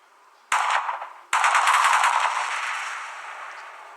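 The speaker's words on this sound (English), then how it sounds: "Then you shoot one like this, and then run away." Two abrupt video-game gunfire blasts less than a second apart, the second followed by a long, loud, fading roar. No one speaks.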